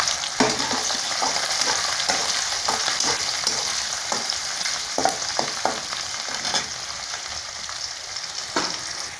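Shallots, curry leaves and garlic sautéing in a pan: a continuous bright sizzle with scattered spatula scrapes and taps, close and steady, no talking.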